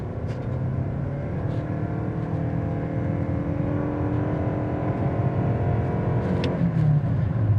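A Toyota Crown Crossover accelerates in a steady, close interior-style drone of engine and road noise that builds slightly over several seconds, with a brief whoosh near the end and no talking.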